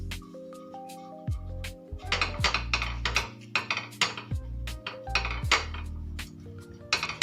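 A metal appe pan being greased with oil, heard as a run of clinking and rattling metal taps and scrapes from a spoon against the pan, close and irregular, with no voices.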